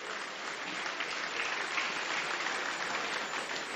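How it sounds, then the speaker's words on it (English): Sustained applause from the audience at the COREN Engineering Assembly fills the hall, a dense, even wash of clapping that holds steady throughout without voices over it. "a round of applause for the President of COREN"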